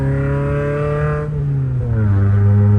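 A BMW E30 engine revving hard at full throttle on a test drive, loud and close, its steady droning tone climbing in pitch, dipping briefly as it shifts, then rising again.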